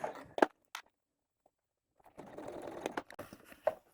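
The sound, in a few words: sewing machine stitching a bag gusset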